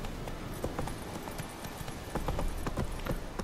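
Geralt's horse Roach trots in The Witcher 3 with a steady, even clip-clop of hooves at moderate volume over a constant outdoor ambience, with no talk.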